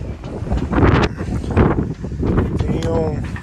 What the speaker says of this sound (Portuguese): tem uma tempestade vindo e o vento tá bagual